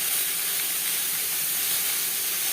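Pointed gourd (potol) frying in oil with salt and turmeric, giving a steady, dense sizzle and hiss that is close and continuous with no talking.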